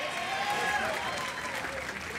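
A hometown crowd at a recurve men's team archery bronze final in Medellín applauds and cheers, steady dense clapping with a few whistles over it, while a commentator talks.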